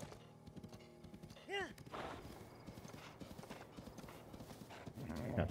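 Horse hooves clip-clop in The Legend of Zelda: Breath of the Wild, a steady trotting patter mixed with a whinny, thuds and game effects, while someone talks over it.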